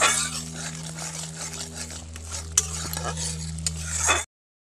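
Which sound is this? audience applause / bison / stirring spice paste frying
stirring spice paste frying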